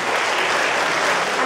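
An audience in a concert hall gives loud, warm applause to a dance ensemble at a dance performance, a dense and steady clapping that holds evenly from start to finish.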